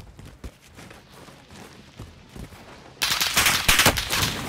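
Gunfire in Call of Duty: Modern Warfare starts as scattered distant pops and footsteps, then becomes loud sustained automatic fire for the final second and a half.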